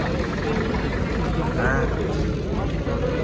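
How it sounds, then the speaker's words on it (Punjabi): A tractor engine runs at a farmers' protest camp at the Shambhu border, giving a continuous low droning rumble throughout. People talk over the engine noise. "ਦੇਖੋ ਬਾਈ ਇੱਕ ਤਾਂ ਇੱਕ ਟਰੈਕਟਰ ਆ ਹੈ"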